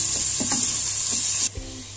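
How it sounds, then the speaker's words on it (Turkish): Roasted aubergines fry with onions in a pan, giving a steady bright sizzle with a few soft stirring knocks before the hiss cuts off abruptly near the end. "Közlemiş olduğum patlıcanları soğanlarla birlikte kavuruyorum."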